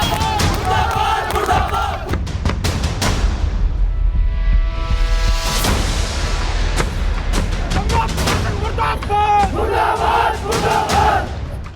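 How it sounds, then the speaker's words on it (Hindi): Uproar from a crowd of hundreds scuffling with police, loud shouting and chanting voices surging together, with bangs and clatter breaking through a constant roar. "सैकड़ों लोगों की जमा भीड़, पुलिस के साथ हाथापाई करते लोग और भारी बवाल"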